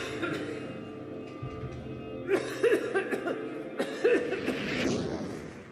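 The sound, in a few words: dry cough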